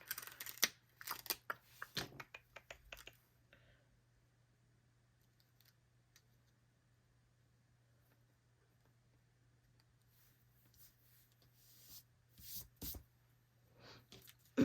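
Scissors cutting off an end piece of material: a flurry of quick close snips and clicks at first, then near quiet with a low hum, and a few more snips near the end.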